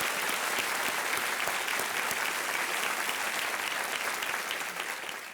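Steady, even applause from a TV game show studio audience welcoming a contestant and his parents, dense clapping held throughout and easing slightly at the end.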